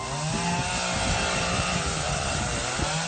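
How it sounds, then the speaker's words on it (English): A nun runs a chainsaw, its engine holding a steady, loud buzzing drone that rises and dips slightly as it works, close and continuous with no talking. "And finally, number 6, Nun with a Chainsaw."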